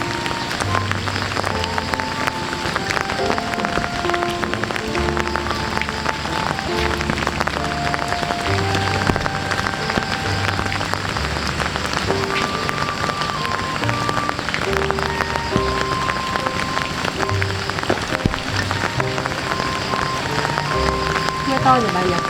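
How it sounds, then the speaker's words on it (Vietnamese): Heavy rain pours steadily outside a home with a covered porch, a dense, unbroken hiss throughout, while soft piano-like music plays underneath. "Mưa to rồi bà nhỉ?"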